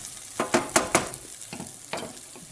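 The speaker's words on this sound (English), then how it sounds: "better stir this one more time. My fried corn" Fried corn is stirred in a pan while it sizzles, with several sharp scraping strokes close by, then quieter frying between them and no talk.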